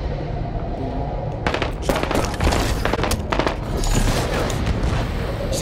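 Rapid bursts of automatic gunfire crackle through a Halo 5 firefight, dense volleys of close shots piling over steady game background noise.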